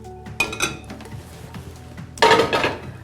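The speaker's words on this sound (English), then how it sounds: "I'm actually going to switch it out for a smaller fry pan." Metal clatter and clinks of a large fry pan being swapped for a smaller one on a kitchen stovetop, a few knocks early on, then a louder burst of scraping and clanking near the end.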